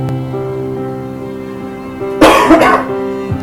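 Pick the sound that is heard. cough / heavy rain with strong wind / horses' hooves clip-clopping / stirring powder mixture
cough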